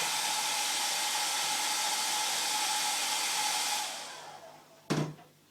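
A heat gun warming vinyl wrap on car trim blows with a steady, close, loud airy roar that fades out near the end, followed by a single sharp knock.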